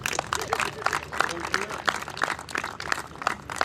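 Audience applause at a college house award dinner, a scattered mix of clapping hands in a hall with voices talking over it.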